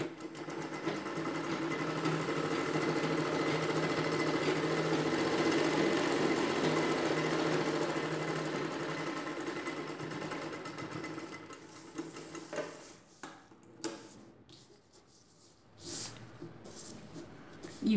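A sewing machine hums in a steady, close run while stitching a zip onto a chudidar dress, then winds down into soft handling and fabric-shifting noises.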